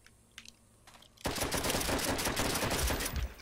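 Gunfire in Call of Duty: after a few faint clicks, a loud sustained burst of rapid automatic fire erupts and keeps rattling close and continuous for about two seconds.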